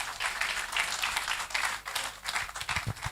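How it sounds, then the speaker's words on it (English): An audience at a formal foundation launch event honouring a professor gives a round of applause, a steady, fairly faint patter of many hands clapping. "A round of applause for him, please."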